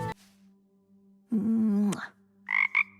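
A cute frog in the Greek-mythology action game Hades 2 lets out a drawn-out, resonant croak over a low steady hum, followed by a couple of short bright chirps, close and clear.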